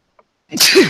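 A single sharp sneeze up close, preceded by a brief faint intake of breath.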